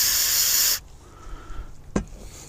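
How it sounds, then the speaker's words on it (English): Brake cleaner sprays from an aerosol can in a loud, steady hiss lasting under a second while servicing an outboard motor's lower unit, then cuts off abruptly, leaving quiet handling noises and a brief knock. "Spray a little brake fluid on it."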